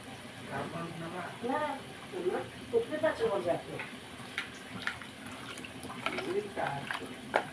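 Water poured into a cooking pot while making a coriander-tomato chutney, trickling and splashing faintly at intervals beneath a voice speaking quietly nearby.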